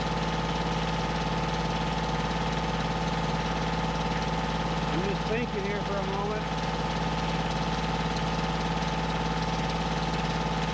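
A tractor engine idles steadily throughout with a low constant drone and hum, while someone speaks briefly over it.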